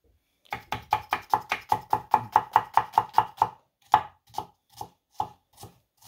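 A knife chops onion on a board in a village hotel kitchen, a fast run of about a dozen sharp even strokes, then slower scattered cuts, close and clear with no voices.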